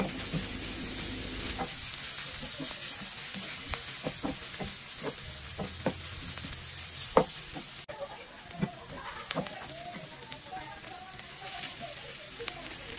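Onions and pepper frying in a pan with garlic, a steady soft sizzle broken by repeated scraping clicks of a utensil stirring, close and fairly quiet.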